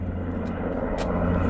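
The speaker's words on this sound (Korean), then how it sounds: "이 헬리콥터가 계속 돌고 돌아가지고 시끄러워서 못 찍는데" A helicopter circling overhead above a garden in November gives a steady low engine drone that holds at a constant level throughout, with no speech.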